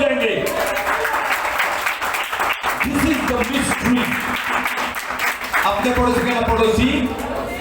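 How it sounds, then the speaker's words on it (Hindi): Church congregation applauding loudly during a Hindi sermon, a dense, steady wash of clapping filling the room throughout, with voices mixed in. "कितने लोग इसके लिए जोरदार ताली बजाएंगे?"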